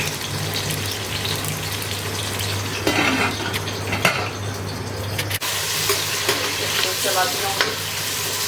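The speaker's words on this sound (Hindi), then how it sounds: "चलाती रहूँगी" Tomato masala frying in a pan for mutton biryani, stirred with a spoon: steady close sizzling under repeated scraping and clinking strokes, a few sharper knocks and a brief pause midway.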